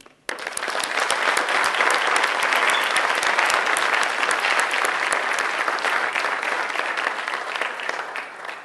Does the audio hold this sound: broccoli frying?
no